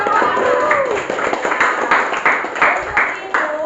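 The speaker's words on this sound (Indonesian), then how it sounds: "Tepuk tangan untuk kelompok" A student group receives applause in a classroom, with a few hands clapping in sharp, slightly uneven bursts close by while a voice speaks over the start.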